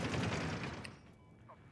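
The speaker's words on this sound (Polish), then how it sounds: "wszystko do mnie strzela" Gunfire in Battlefield 3 gameplay, a loud burst of rapid shots and booming blasts that fades quickly into near-quiet, with one sharp crack at the very end.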